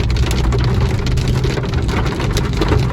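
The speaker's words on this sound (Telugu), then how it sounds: "మొత్తం ఫారెస్ట్లో ఘోరంగా అంటే ఘోరంగా వర్షం పడుతుంది అసలు" A loud, constant downpour of heavy rain in a forest drums and hisses all around without pause; no one speaks.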